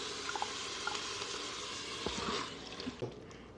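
Canned tomato puree poured into an Instant Pot of chili over cooking vegetables, giving a steady close sizzle with soft wet plops and stirring bubbles.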